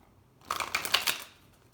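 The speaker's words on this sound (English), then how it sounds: "Get a good shuffle in there." A short burst of tarot cards being shuffled, quick riffling flutters lasting under a second after a brief silence.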